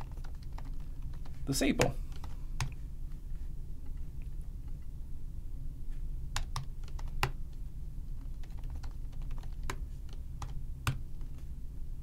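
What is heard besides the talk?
typing on a computer keyboard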